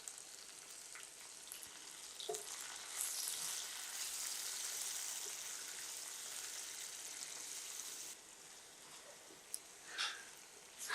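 Potatoes fry in a pan as the first step of a Bengali yardlong-bean curry, giving a steady, close sizzle that swells in the middle and then eases off, with a few light stirring clicks and no talking.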